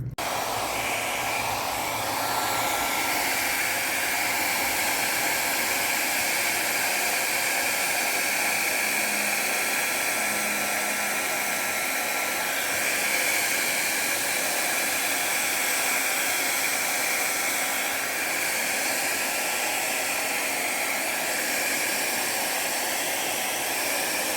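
A dryer blows steadily and loudly across fluid art paint for over twenty seconds, a continuous airy roar with slight shifts in pitch and no voices.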